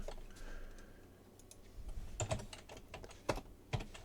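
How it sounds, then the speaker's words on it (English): Computer keyboard typing during game programming work: irregular bursts of keystrokes, soft at first, then several sharper, louder clacks near the end, close up and with no voices. "A lot of typing."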